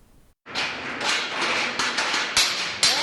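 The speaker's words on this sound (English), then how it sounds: "This may sound like construction." Steady broadband banging and clatter of hammering at a work site, several sharper strikes standing out over continuous busy noise.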